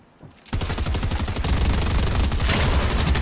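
Fortnite Cash Cup gunfire starts with a quiet shot, then breaks into a loud, close, rapid automatic burst that rattles on without a break to the end.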